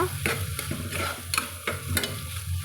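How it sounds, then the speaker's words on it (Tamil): Vegetables for a ponni rice vegetable biryani are stirred in a pan over a soft, steady sizzle, with a spoon scraping and knocking in a loose, repeated rhythm, close and clear. "நல்லா கலந்து விட்டுக்கலாங்க ஒரு நிமிஷத்துக்கு காய் கலந்து விட்டு"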